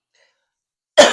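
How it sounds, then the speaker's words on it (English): A woman gives a single sharp, close cough that bursts out of silence near the end, harsh and throaty. "She coughing and she got phlegm on her throat."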